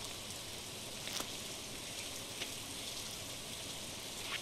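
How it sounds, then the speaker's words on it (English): Steady rainfall in the farming video game Stardew Valley, a soft, even hiss with a few faint drip-like ticks, continuous and unbroken with no one speaking. "I wonder if it's raining, do we need to water it?"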